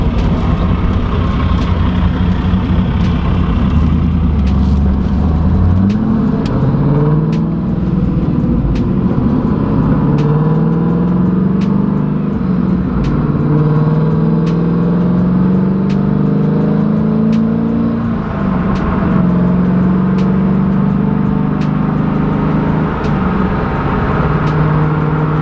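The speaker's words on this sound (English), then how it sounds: "We've been driving for a few hours." A Pontiac WS6 cruises on a road trip, its engine droning steadily at close range with rising and falling pitch as it shifts through gears, with a constant road rumble underneath and no talking.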